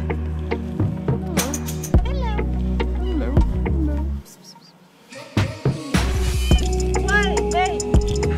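A stray cat meows several times outdoors, short rising and falling cries close by, mixed with people talking and background noise.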